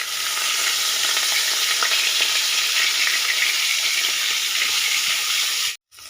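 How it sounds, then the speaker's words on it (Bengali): Freshwater snails fry in hot oil in a wok, a loud steady sizzle with faint stirring scrapes, cut off abruptly near the end. "ওই একই কড়ায় গুগলিগুলো ভেজে নেব।"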